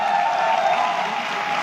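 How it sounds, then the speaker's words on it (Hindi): Audience applause at a motivational talk, a brief burst of steady crowd clapping at moderate loudness. "आई वांट कि एक बार जोरदार तालियां हो जाए उनके लिए।"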